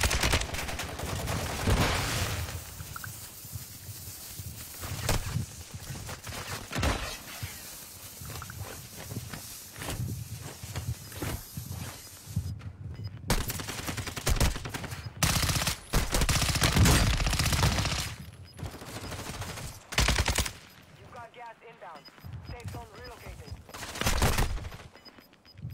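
Pistol gunfire in a video game, with bursts of shots over dense game noise and music, intermittent loud cracks across the clip, with people talking excitedly over it.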